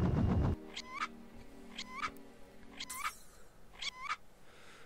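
A cartoon cat in the video game Fur Fighters meows four times in a steady sequence, each meow distinct and fairly clear over a soft background hum.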